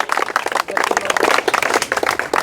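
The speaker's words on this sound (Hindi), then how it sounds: "चलिए बजाइए ताली आप लोग।" A group of students at a career coaching class in Bihar claps together in a brisk, continuous burst of applause, close and loud, with a voice briefly audible over it.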